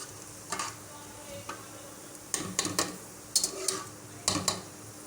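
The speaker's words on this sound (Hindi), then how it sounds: "2 अदद बादियान के फूल और थोड़े से सिनामन स्टिक्स डाल देंगे। सबसे पहले हम इसके अंदर इसको थोड़ा सा फ्राई कर लेंगे।" Star anise and cinnamon sticks frying in oil in a pot for aloo matar pulao: a soft low sizzle with several sharp clinks and scrapes of a spoon against the pot, no voices.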